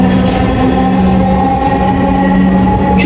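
A Dhaka metro train heading for Motijheel runs steadily, a loud continuous hum and rumble from inside the carriage with a sustained low electric whine and no voices.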